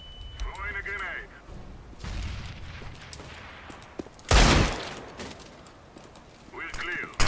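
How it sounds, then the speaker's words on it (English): Counter-Strike: Global Offensive grenade blast, one loud sharp explosion midway among scattered gunfire and clattering footsteps, with radio voice callouts before and after. "Throwing a grenade."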